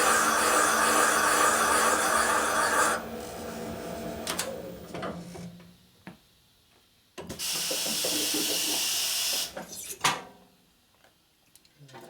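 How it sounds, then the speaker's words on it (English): Bursts of loud pneumatic hissing from an air tool's air chuck start and stop abruptly at each trigger pull, separated by quieter stretches with clunks and mechanical handling noises, during a 1980 Harley Sportster cylinder rebuild. "This has an air chuck up here, so every time I touch my trigger it makes noise"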